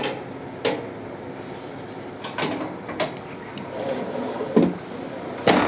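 Drawers in the galley of a 2013 Winnebago Vista or Itasca Sunstar motorhome slide and bump shut, giving several separate sharp knocks and thuds spread across a few seconds against a low room hum.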